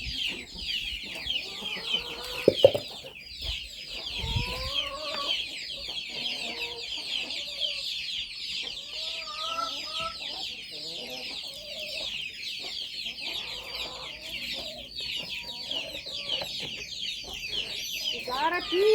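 A crowd of ducklings squeals and peeps continuously in shrill, overlapping calls, with occasional rustling and a brief knock.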